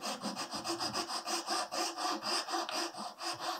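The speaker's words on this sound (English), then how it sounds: "filing away a groove on the inside so I can hold a wire perpendicular to the jaws of the clothespin" A groove is filed inside the jaws of a wooden clothespin in quick, even back-and-forth rasping strokes, a dozen or more in a steady rhythm, close but faint, with no talking.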